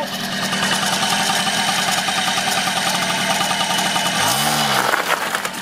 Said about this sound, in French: Théo découvre sa première moto.